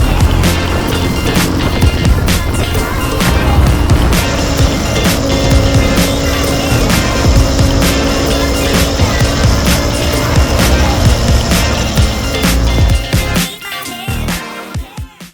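A 2018 Harley-Davidson Street Rod 750 motorcycle on a test ride roars loud and close with continuous engine and road noise and rushing wind, then drops away sharply near the end.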